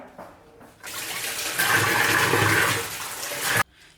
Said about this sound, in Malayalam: ഞാനിത് ടാപ്പിന്റെ താഴെ വെച്ചിട്ട് ഒന്നും കൂടി വാഷ് ചെയ്ത് കൊണ്ടുവരാം